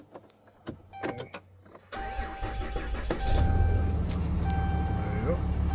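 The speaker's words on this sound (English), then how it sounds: "Starts the truck, and you're all set." A 2010 Dodge Ram truck engine cranks and starts after key programming, then settles into a steady low rumbling idle, preceded by clicks and brief electronic tones inside the cab.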